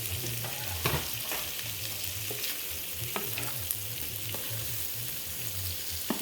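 Mussels cooking in a pan with lemongrass, Thai-style, giving a continuous close sizzle and bubbling with a few clicks of stirring and shells shifting.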